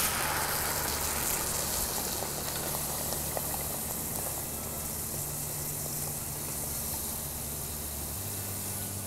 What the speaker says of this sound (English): We're going to let that cook down until that red wine is almost completely evaporated.